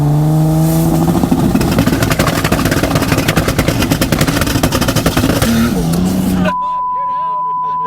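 Triple-turbo VL wagon engine revving hard and launching, a loud sustained roar with rising pitch and rapid pulsing exhaust crackle, then cutting off abruptly to near silence.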